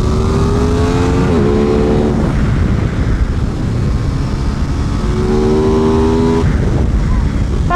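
An Aprilia RS660 sport motorcycle on a race track, its engine note rising and dropping through gear changes at high revs, with heavy wind rush over the whole stretch and a rider speaking excitedly over it.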